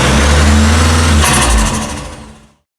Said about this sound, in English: Hey Pajero, what sound does a snorkel make?